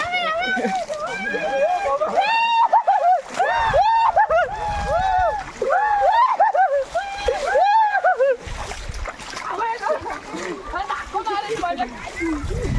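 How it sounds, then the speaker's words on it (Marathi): Water splashes and sloshes beneath loud, excited voices of several people shouting and laughing nearby at a Dahi Handi festival. "मोबाईलवर पाणी उडल"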